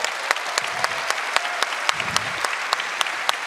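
A convention audience at a live Star Wars fan event breaks into sustained applause, a dense wash of many hands with a few sharper claps standing out, heard continuously from a moderate distance.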